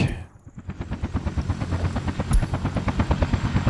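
A helicopter arrives in the city-building game Workers & Resources: Soviet Republic, its rotor giving a steady, rapid thudding chop that grows stronger and fills the clip, with no talking.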